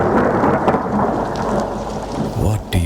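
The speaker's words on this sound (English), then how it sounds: "Where do you hide when the thunder roars and the lightning strikes?" Thunder rolls and rumbles continuously through a heavy rainstorm, with steady loud rain hissing over everything and a sharper crack near the end.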